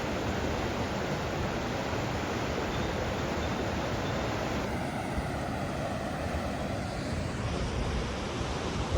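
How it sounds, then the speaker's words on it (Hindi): Gentle river water in Kasol flows in a steady, broad rushing wash that stays even and continuous throughout, with no voices. "हल्की हल्की पानी की आवाज़ आ रही है।"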